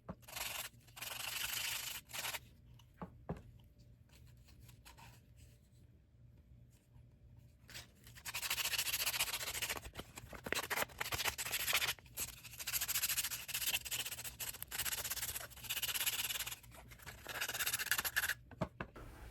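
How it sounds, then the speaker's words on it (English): Fine sandpaper rubbing over a 3D-printed resin part, a soft steady scratchy hiss in repeated strokes, quieter at first and then louder and continuous through most of the stretch. "when you get to 2000, it's really smoothing it out, making it much less jagged and pretty much smooth"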